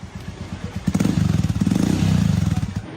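A Royal Enfield Himalayan motorcycle engine thumps at idle, then revs up into a rapid, throaty single-cylinder pulse, close and loud, without speech.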